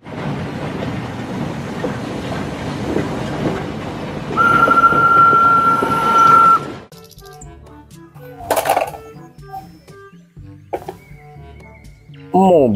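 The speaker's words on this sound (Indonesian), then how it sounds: "Kereta Thomas." A toy Thomas train gives a rumbling, clattering run with a whistle tone partway through, then goes quiet apart from scattered clicks and knocks.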